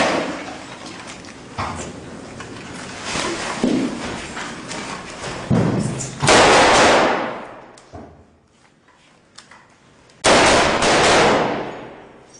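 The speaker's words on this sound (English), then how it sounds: "I'm gonna shoot it again when I get down there." Gunshots ring out outdoors, several loud sharp cracks followed by two heavier, louder blasts with ringing tails separated by brief quiet gaps.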